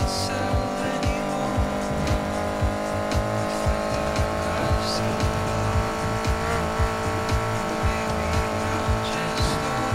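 Racing car in Need for Speed Heat with a modified exhaust, its engine droning steadily while downshift crackles and pops burst out repeatedly, loud and close, with tire noise mixed in.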